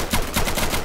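Rapid gunfire from the cooperative shooter game Insurgency, loud bursts of automatic shots in quick succession filling the brief moment, with no voices.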